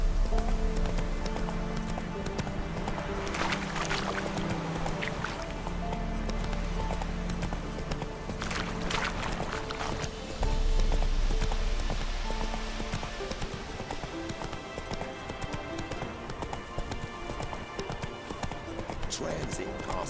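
Hooves of the horse Roach clip-clopping at a steady trot in The Witcher 3, a continuous rhythmic beat under game music and intermittent spoken dialogue.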